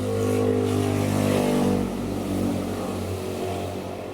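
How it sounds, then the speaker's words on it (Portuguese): A motorcycle passes by outdoors, its engine a steady loud drone that swells and then slowly fades as it moves away, with no talk over it. "De novo, outra moto."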